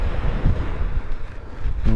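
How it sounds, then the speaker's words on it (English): Wind gusting across a forest-edge beach on an evening, a steady close roar of buffeting against the microphone with deep rumbling surges, no voices. "because it's quite windy"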